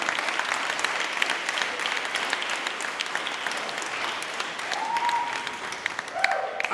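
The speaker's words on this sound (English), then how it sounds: "And that's a good place to clap." An audience at a Black Business Hall of Fame event in Tampa Bay applauding, a sustained, even crowd of clapping with a brief voice or tone rising through it near the end.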